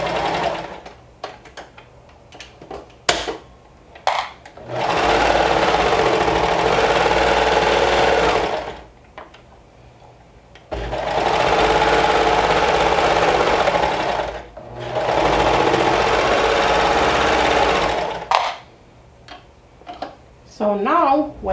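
A sewing machine runs in three long steady bursts, stitching a bodice lining seam at a quarter-inch allowance, loud and close, with short pauses and clicks between runs.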